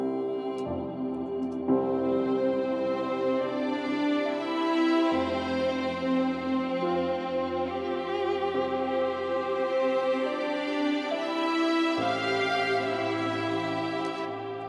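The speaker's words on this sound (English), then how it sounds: "the first violins are actually the melody line of the string ensemble" First violins play a sustained, legato melody over second violins an octave lower, within a full string ensemble, with smooth chord changes and no voices.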